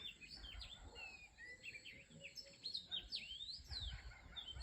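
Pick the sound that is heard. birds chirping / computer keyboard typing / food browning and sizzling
birds chirping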